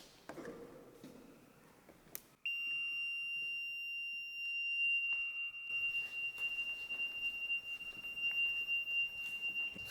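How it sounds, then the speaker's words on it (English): A motion-detector alarm sounds inside the old Brushy Mountain prison, a steady sustained high electronic tone that starts abruptly and holds loud and unbroken, with faint background noise and shuffling beneath it. "Who's got that alarm?"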